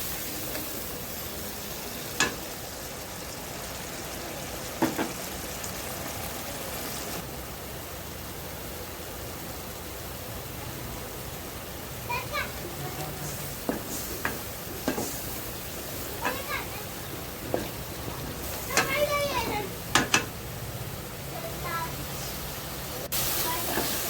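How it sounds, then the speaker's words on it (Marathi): Masala paste of ground whole coriander, fresh coriander, onion, tomato and green chili frying in a pan for egg masala curry, giving a steady close hiss and sizzle with occasional sharp crackles and clinks. "हे मसाला छान भाजून घ्यायचा आहे आपल्याला"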